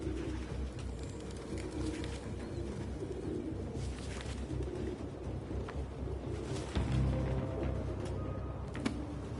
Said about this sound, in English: They're pigeons, not chickens,